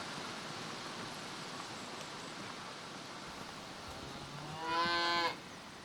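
A single cow lets out a loud, drawn-out moo near the end, close by, over a quiet outdoor backdrop on a pastoral livestock range where herders graze their cattle.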